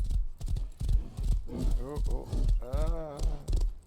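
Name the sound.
horse walking up cliffs in video game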